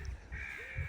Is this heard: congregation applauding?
no